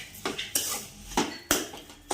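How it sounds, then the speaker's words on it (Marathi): Spoon scraping and clanking in a pan while carrot halwa is stirred with sugar, a series of sharp metallic knocks roughly every half second over soft scraping, close and clear, no talk. "छान फिरून घ्यायचं साखर विरघळेपर्यंत"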